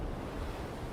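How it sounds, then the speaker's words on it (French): Storm waves crash against a boat as a sound effect, a dense, steady roar of surf and wind at close range. "Une tempête approchait et les vagues commençaient à lacérer le bateau."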